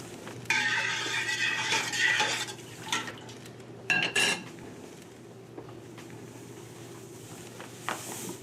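Dry malt extract being added to a boiling homebrew pot for a chocolate milk porter, heard as clinking and scraping of a metal spoon against the pot in bursts, with the steady hum of the burner underneath.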